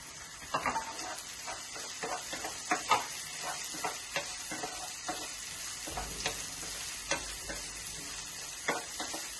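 Onion pieces fry in a pan with garlic, cumin, fennel, clove, cinnamon and bay leaf, a steady sizzle broken by frequent scraping stirs and light utensil taps against the pan.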